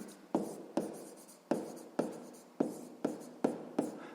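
Pen strokes on paper while working a sixth-grade math exercise: about nine sharp, evenly spaced scratches, each ending in a short decaying tail, close and fairly quiet with no talking.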